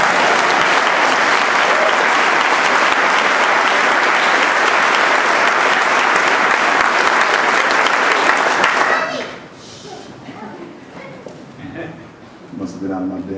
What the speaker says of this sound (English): you can applaud me on that